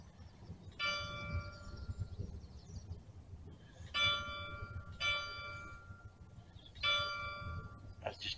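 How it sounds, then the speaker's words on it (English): A church bell at St Marys strikes in separate ringing clangs, four tolls spaced a second or more apart, each with a lingering metallic tone, moderately distant over a low background rumble. "That's just a church bell, guys."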